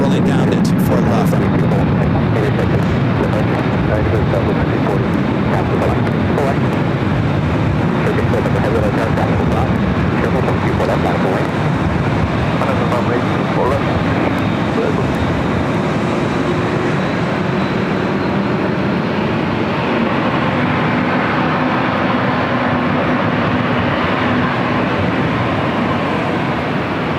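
A passenger airliner bound for London Heathrow takes off from LAX, Los Angeles airport, on runway 24 Left. A loud, continuous engine roar runs throughout, and a rising tone shifts upward toward the end. Faint talking sits beneath it.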